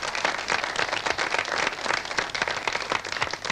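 Studio audience applauding at a 1984 Olympic telethon broadcast, a steady, dense round of clapping that stays even and fairly close throughout, with no voices over it.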